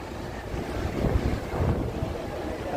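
Sea waves washing onto the beach at Ganpatipule in Ratnagiri, a continuous broad surf roar with gentle swells, mixed with wind buffeting the microphone and no voices.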